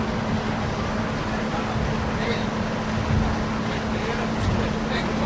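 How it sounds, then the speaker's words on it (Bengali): A passenger launch boat passes on a river in the Sundarbans, its steady low engine drone and hum running continuously with wind and water wash, with people talking nearby. "এখানে আরেকটা লঞ্চ যাচ্ছে।"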